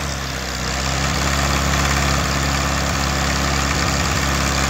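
A 1949 Farmall Cub tractor engine idles steadily at close range, a low continuous rumble with faint periodic thumps and no speech.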